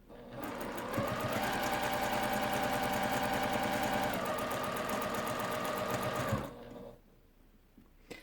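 Sewing machine chain piecing quilt blocks runs in a fast, steady whir for about six seconds, then slows and stops, leaving near quiet.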